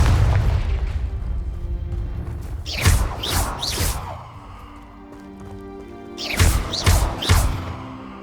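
Confringo fire-blast spells exploding against rocks in the game Hogwarts Legacy: two separate clusters of sharp, booming bursts with whooshing tails, each with three quick blasts, above a low rumbling background.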